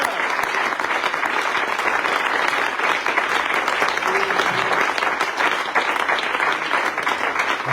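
A church congregation at a revival service in Aboisso breaks into steady, enthusiastic applause, a dense, even clapping that fills the room for several seconds without pause.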